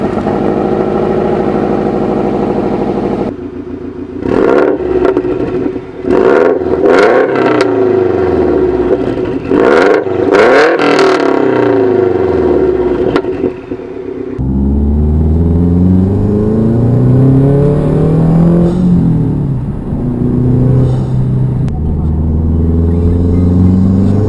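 Subaru Legacy GT with a Tomei turbo manifold idling and revving nearby, its deep rumbling exhaust rising and falling through several throttle blips, then settling into a steady drone with slow pitch sweeps.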